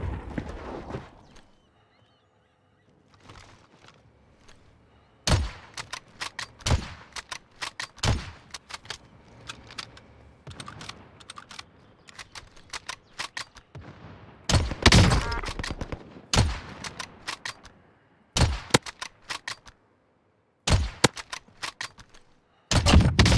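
Gunfire in the video game Call of Duty Warzone, sharp single shots and short bursts scattered irregularly, loud and near against a quiet background, with occasional muffled voice between.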